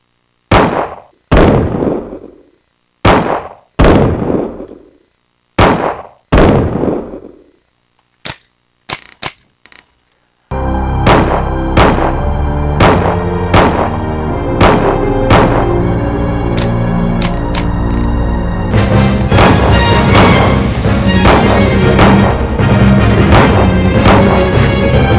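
Colt Python .357 Magnum revolver from Resident Evil Code: Veronica X firing a string of loud, sharp single shots alone, roughly eight reports in uneven rhythm, then the scene shifts to dense continuous game noise with further sharp bangs.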